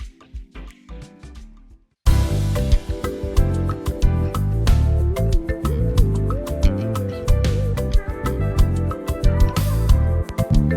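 A short dry electric bass guitar phrase stops, then a warm, tape-saturated bass groove plays continuously with a dense, full band behind it.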